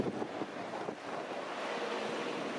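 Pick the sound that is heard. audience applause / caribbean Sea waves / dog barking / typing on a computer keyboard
caribbean Sea waves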